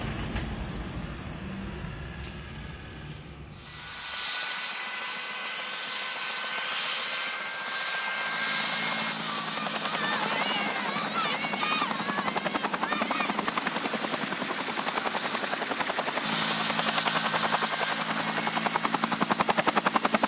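A helicopter lifting loads at Cotter Reservoir, one pilot at the controls, starts with a low rumble, then a loud steady rotor and turbine roar sets in and holds, close and powerful with a high whine on top.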